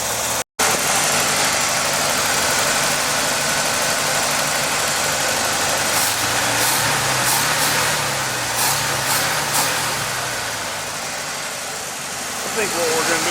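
A 1968 Chevy C10 engine idles high on the fast idle cam, a steady mid-pitched running drone that softens briefly near the end, with faint ticks and clatter on top and a person talking over it.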